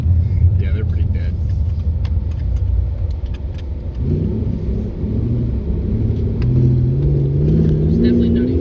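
Boosted 3.7L V6 Ford Mustang S550 making 600whp, its engine droning loudly and building under acceleration with tires spinning, while people talk over the rumble inside the car.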